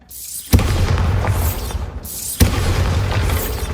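Two Bombarda spell explosions in Hogwarts Legacy, each a sharp, loud blast followed by a rumbling, crackling tail of debris, close and full with no talk.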